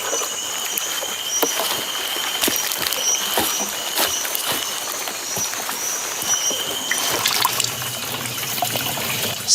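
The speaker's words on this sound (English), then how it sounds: "crude oil is poured into a little drum" Crude oil is poured into a small drum at an artisanal oil refining site in the Niger Delta, a continuous trickling, splashing flow with clanks and knocks of metal, close and fairly loud.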